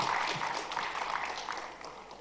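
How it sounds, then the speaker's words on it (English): An audience applauds as a speaker is welcomed onto the stage at a tech talent event, producing a faint, even patter of clapping that fades slightly toward the end. "Can we all give a huge round of applause as we welcome her on the stage"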